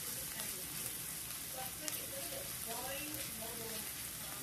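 Garlic sizzles steadily as it browns in a frying pan, a continuous close crackle with a voice speaking faintly over it.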